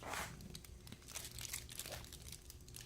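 Aluminium foil crinkles and crackles steadily while a foil ring is fitted onto a homemade ring light, close up and fairly quiet, with dense papery rustling throughout.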